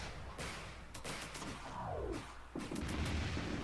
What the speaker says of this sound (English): He's got all these mortars